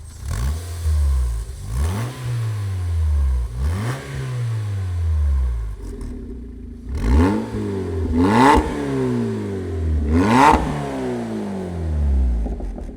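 A 350 hp naturally aspirated car engine, compared against a MINI, revs hard in repeated rising and falling sweeps of about a second each, loud and close with no talk.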